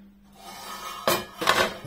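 Two clattering metallic clanks as pots and pans from a Wodillo cookware set are unpacked, close and fairly loud, after a quiet moment.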